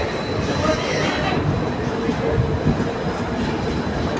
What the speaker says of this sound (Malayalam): നമ്മൾ വന്ന ട്രെയിനാണിത് കേട്ടോ